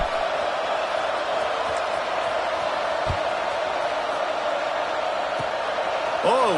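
A college football stadium crowd before a kickoff makes a steady, broad murmur that fills the whole clip at an even level, with an announcer talking over it.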